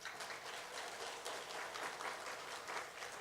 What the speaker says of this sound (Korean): 2, 3, 4 평원에 계신 분들 1평원 위해서 박수하겠습니다